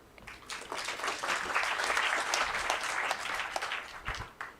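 A seminar audience applauds steadily for a few seconds, a dense wash of many hands clapping that swells, holds, then thins toward the end, moderately distant.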